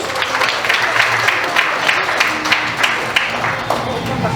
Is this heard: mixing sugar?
no